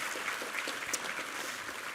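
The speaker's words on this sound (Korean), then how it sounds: "한번 힘찬 격려의 박수 부탁합니다" A church congregation at a Sunday service applauds a chamber ensemble, giving a soft, distant patter of many clapping hands that stays fairly even throughout.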